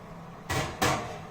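A metal loaf pan of cinnamon swirl bread slid into a home oven, two short close knocks and rattles about a third of a second apart, followed by a faint thud of the oven door.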